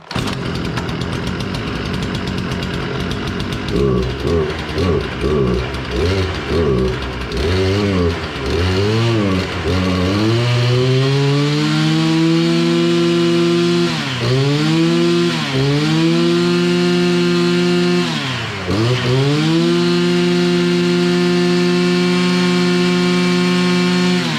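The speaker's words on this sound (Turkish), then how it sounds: "Tekrar starteri çekiyorum." A Stihl FR 480 brushcutter's small two-stroke engine catches after a pull on the starter, sputtering unevenly at first, then settling into a loud, steady run with revs swelling and dipping a few times.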